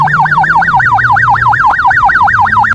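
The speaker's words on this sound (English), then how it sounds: "Police car." A police car siren in a children's cartoon-style video game wails loudly in a fast, steady up-and-down whoop, repeating about four times a second over a low engine drone.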